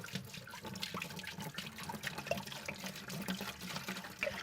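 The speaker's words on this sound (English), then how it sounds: "we're going to take the bucket and we're going to put in 1 gallon of warm water" A gallon of warm water pours into a bucket, a soft continuous splashing and gurgling with a few brighter drips, quiet and close, no voices.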